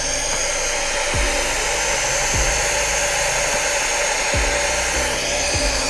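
Cabin of a diesel car fitted with Black Gold sound-damping material: a steady, fairly loud broadband rumble and hiss of engine and road noise, with a few brief low thumps, and no talking.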